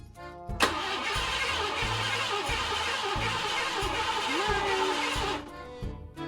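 The starter of a 1990 Mustang V8 cranks for about five seconds in a steady rhythmic churn without the engine catching, then stops abruptly.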